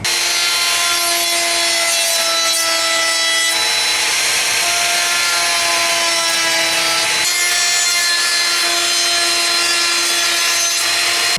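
A router cutting a round-over on cedar: a steady, high-pitched whine with a harsh cutting rasp through wood, loud and continuous, with a brief dip partway through.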